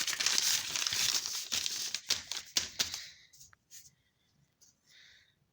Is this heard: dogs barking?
no